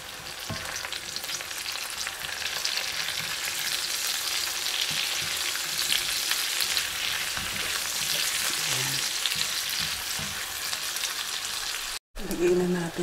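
Large scallions and onion fry in a pan with a continuous moderate sizzle and occasional stirring scrapes, ending with a brief cut and a thump.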